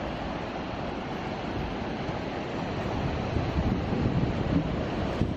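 Ocean waves washing up on a Goa beach, a continuous loud rushing surge with wind buffeting the microphone, swelling slightly toward the end.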